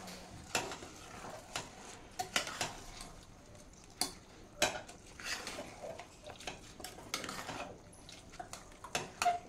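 Tomato rice being stirred in a pot, Udupi hotel style, with irregular spoon scrapes and clinks against the metal at close range, no talking.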